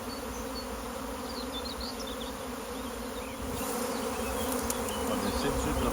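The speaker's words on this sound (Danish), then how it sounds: "En sværm forlader stade nummer 1." A honeybee swarm pours out of a hive in a May apiary, a dense, steady buzzing drone of countless bees that fills the air and swells slightly louder toward the end, with no voices.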